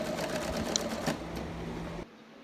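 Sewing machine topstitching the waistband of a skirt, a brief steady whir of stitching at close range that stops abruptly near the end.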